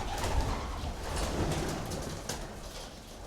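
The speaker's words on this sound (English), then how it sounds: "I've got to get all these fucking birds out." Pigeons cooing inside an old, run-down Japanese apartment, many birds together, a steady close murmur of overlapping coos filling the room with no talk.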